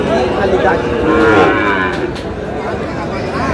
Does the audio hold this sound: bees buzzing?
no